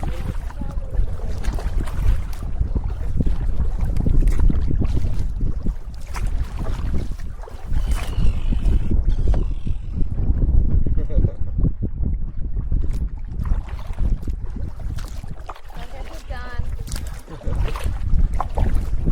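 Strong wind buffets the microphone on a small section of Russell Lake during a backcountry canoe trip in Quetico Provincial Park, a steady loud roar with gusting rushes and water noise throughout.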